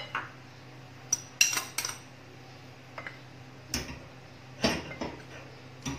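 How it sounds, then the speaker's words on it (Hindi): A spoon stirs cocoa powder into flour and baking powder in a bowl, giving scattered sharp clinks and scrapes against the bowl over a low steady hum, with no one talking. "इसके अंदर अब हम कोको पाउडर मिक्स कर देंगे"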